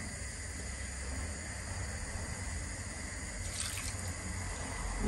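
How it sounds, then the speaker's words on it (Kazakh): Water trickles steadily into a pan of purslane being cooked, a constant close splashing flow with a brief brighter splash near the end, no talking. "Кішкене ғана басында су құямыз."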